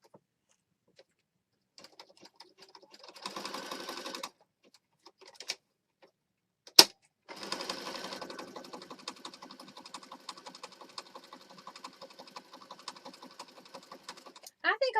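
A sewing machine stitches paper pages of a small Christmas mini journal in rapid, close, rattling runs, broken by pauses and a sharp click as the work is turned.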